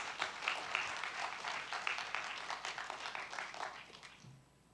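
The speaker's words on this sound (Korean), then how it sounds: "다시 한번 박수로 우리 목사님 환영하고 말씀 나누겠습니다." A church congregation at a revival meeting applauds to welcome the pastor, with fairly faint, steady clapping from a roomful of people over several seconds before it tapers off.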